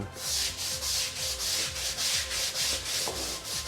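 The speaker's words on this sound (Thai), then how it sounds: "เดี๋ยวเราจะมาลองขัดดูนะครับว่าหลังจากขัดแล้วเป็นยังไงบ้าง" Stains scrubbed off a surface after applying multi-purpose cleaner, a rhythmic back-and-forth rubbing with about a dozen evenly spaced strokes, close and steady with no talking.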